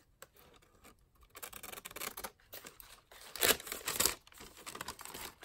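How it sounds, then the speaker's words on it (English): Scissors trim a vintage paper envelope, with close, crisp snipping and crinkling in irregular bursts that grow louder midway, heard alone without talk. "Let's just trim this part first."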